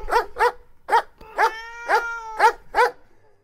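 AI-generated animal sound effect of a dog barking, a series of about seven clear, close barks in an even rhythm, with a sustained tonal cat-like meow overlapping in the middle; no talking.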